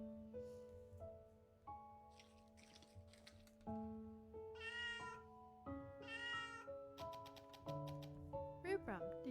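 A cartoonish cat meows in the fantasy adventure game Little Witch in the Woods, with short high calls against a steady game music bed and spoken dialogue in between.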